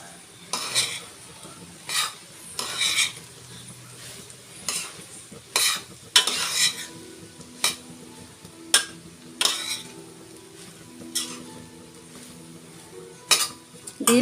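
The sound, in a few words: stirring rice in pan for veg fried rice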